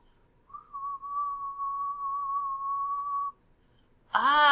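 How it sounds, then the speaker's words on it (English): A single steady low whistle held for about three seconds, clear and close, with a brief burst of another sound at the very end. "let's try that again with a low pitch whistle"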